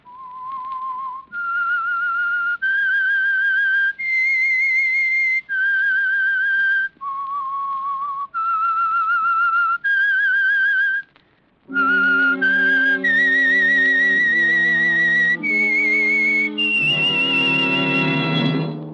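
A solo whistler carries the eerie signal theme of the Signal Oil radio drama The Whistler in clear sustained notes, then a brief pause before an orchestra joins beneath the whistled melody.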